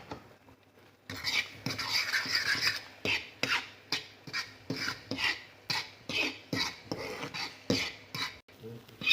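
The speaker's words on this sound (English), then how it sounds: "I'm going to make them scrambled, so I just mix them a lot." Eggs beaten hard in a bowl for Nigerian-style scrambled eggs: a close, steady run of quick utensil strokes clattering against the dish, repeating about twice a second with no talking.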